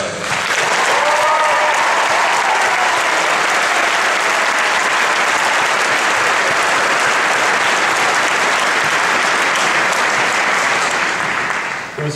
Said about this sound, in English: I want to give or get another round of applause for the doctors of the class of 2011